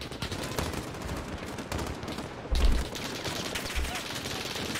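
Gunfire in Call of Duty: Modern Warfare, a steady barrage of shots in a noisy combat mix with one louder burst near the middle and another shortly after.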